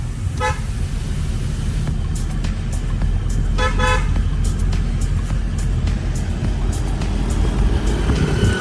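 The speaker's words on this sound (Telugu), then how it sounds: "హారన్ కట్టు." A vehicle horn honks in short bursts over loud, continuous road and engine rumble, close by.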